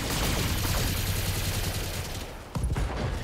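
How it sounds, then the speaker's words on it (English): Mech unloading all its weapons at once in the BattleTech video game, a rapid dense barrage of machine-gun and cannon fire that rattles on loudly, dips briefly, then resumes with sharp bursts. "And right there, fire everything."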